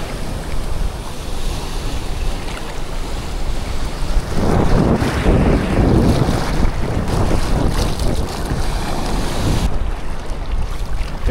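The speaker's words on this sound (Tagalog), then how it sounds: "Malakas yung hangin, pabalik." Strong wind blowing at a rocky shore while fishing, mixed with surf; a continuous close rush that swells louder in the middle stretch, then eases back to a steadier blow.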